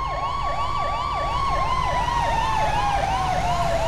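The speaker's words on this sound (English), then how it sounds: "Can't hear you over the siren." An emergency vehicle siren wails continuously in a fast, rising-and-falling yelp, loud and close, over a low idling vehicle rumble, with no voices.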